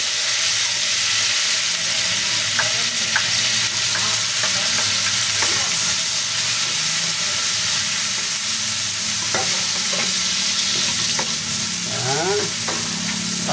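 Onion sautés with garlic in a little oil, giving a loud, dense sizzle and hiss throughout, with scattered clicks and scrapes of a stirring utensil against the pan.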